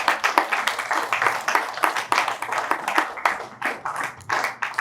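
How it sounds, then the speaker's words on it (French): A small audience at a book launch for a novel applauds a speaker, with distinct, individual handclaps in an uneven, lively patter that is moderately loud and stands alone without talk. "Nous pouvons l'applaudir, s'il vous plaît."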